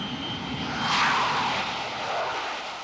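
A French Air Force E-3F airborne radar aircraft flying, its engines producing a steady loud roar that swells as it passes and then holds, with no voices.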